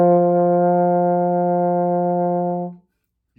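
A single sustained low note from a baritone horn played with all three valves pressed, steady and rich in harmonics for nearly three seconds before stopping cleanly, alone in a quiet room.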